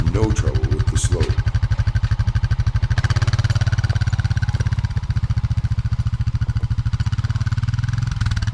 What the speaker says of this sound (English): It's a pretty good lean, but the Honda has no trouble with the slope.